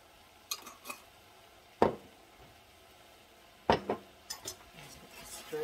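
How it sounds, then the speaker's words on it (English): A spoon stirs spaghetti sauce seasoned with Italian seasoning and basil in a pot for baked spaghetti, giving a few sharp clinks and scrapes against the pot with quiet gaps between them. "Stir it around."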